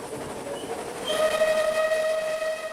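The steam locomotive Clan Line, hauling a heavy train along the coast toward Folkestone, rumbles steadily while entering Shakespeare Tunnel. A sustained whistle tone joins midway over the constant rolling noise.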